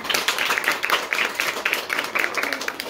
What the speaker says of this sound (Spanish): Aplausos para doña Leomara.